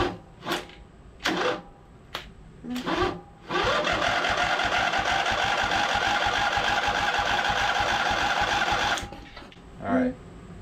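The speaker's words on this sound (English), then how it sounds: "I think it's just that the starter is a little weak right now." Electric starter on a scrapyard Craftsman V-twin engine cranking: several short bursts, then one long sustained grinding crank lasting about five seconds, followed by a brief final burst; close and loud.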